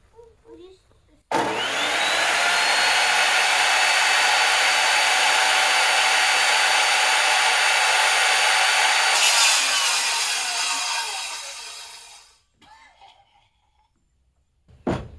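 A power saw rips through an LP SmartSide siding board outdoors, a loud sustained whine running about eleven seconds after a brief start, then tapering off and stopping, with faint voices nearby before and after the cut.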